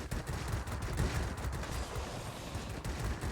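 Machine guns firing on an I-153P biplane in World of Warplanes, continuous rapid bursts of chattering gunfire, loud and close for the whole clip.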